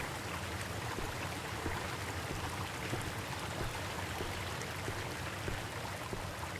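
A waterfall in The Fabled Woods video game gives a steady, even rush of water, a continuous wash of noise throughout with no voices.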